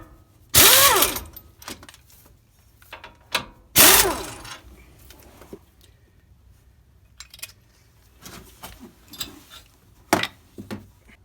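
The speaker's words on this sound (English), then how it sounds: "A long cheater bar like this can help you out a lot of times breaking them bolts" A long cheater bar working loose the bolts on a 2003 Ford Explorer front wheel bearing assembly: two loud sharp metallic clanks and ratcheting clicks, then smaller scattered tool taps and clinks nearby.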